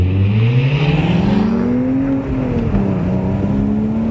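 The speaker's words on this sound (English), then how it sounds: "A good sound. That's what you expect a Porsche to sound like." A 2011 Porsche Boxster Spyder engine revs up steadily, its pitch climbing through the gears with a brief dip at a shift; loud and close, no talking.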